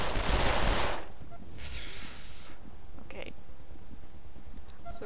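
A loud, dense burst of rapid gunfire from a video game fills the first second, followed by quieter scraping, a brief whoosh and faint clicks.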